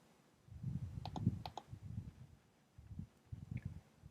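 Mouse clicks while editing in Premiere Pro, a handful of sharp, quiet clicks around the one- to one-and-a-half-second mark over a low, muffled background rumble, near and faint.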